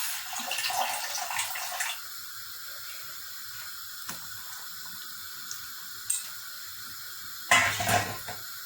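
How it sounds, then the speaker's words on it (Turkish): Water runs from a tap in a short burst, then a quiet kitchen with a few small clinks, before a second brief gush of water near the end, all near and fairly loud. "Biraz koyu olduğu için içerisine su koyup kaynatacağım arkadaşlar."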